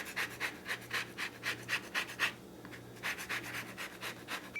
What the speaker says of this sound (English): we're just going to go ahead and grate our zest to those amounts